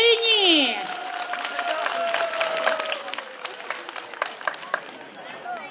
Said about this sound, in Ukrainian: Ірина, оплески Ірині!